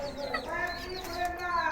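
Chickens kept at home cluck and make brief, high, wavering calls at close range, soft and continuous over a quiet background.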